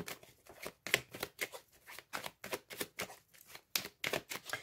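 Tarot cards being shuffled for a general reading, a rapid run of crisp riffling bursts close to the microphone, repeating steadily with short gaps and no talk.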